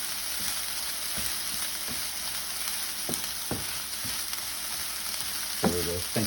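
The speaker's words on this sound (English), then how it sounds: "For the jalapeno peppers that are being fried right now" Pickled jalapeno peppers fry in a hot pan with a steady, close sizzle, broken by occasional stirring clicks and a brief louder scrape near the end.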